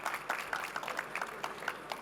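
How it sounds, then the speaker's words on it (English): Audience applause for a panel of speakers at a clinical genomics and IVF event, a brief, fairly faint patter of clapping hands with a few sharper claps standing out. "Ladies and gentlemen, please give them a big round of applause"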